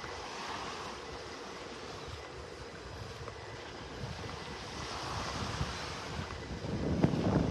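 A breeze blows across Vanderbilt Beach in North Naples, Florida, a steady rush of wind over distant surf that grows slightly stronger toward the end.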